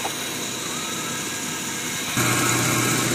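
A car engine idles steadily with the air conditioning switched on, a close, even hum that steps up in loudness partway through as another load cuts in.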